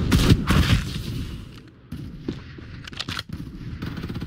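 Rapid gunfire bursts from the battle royale video game Farlight 84, loud and dense at the start, then sparser shots and impacts continuing through the rest.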